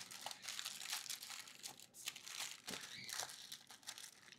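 Aluminium foil paper crinkles and rustles continuously and quietly while marinated mutton is being covered for mandi, with a steady crackling texture throughout.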